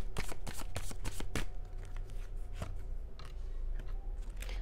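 Tarot cards being shuffled by hand, a rapid series of crisp riffling bursts close up, then quieter scattered card flicks.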